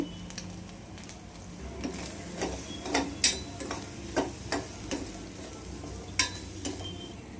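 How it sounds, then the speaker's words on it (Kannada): Sweet corn frying in a pan with pepper powder, giving a soft steady sizzle broken by sharp scraping stir clicks and light taps at an uneven rhythm, close and fairly quiet. "ಸ್ವಲ್ಪ ಫ್ರೈ ಮಾಡ್ಕೋಬೇಕು."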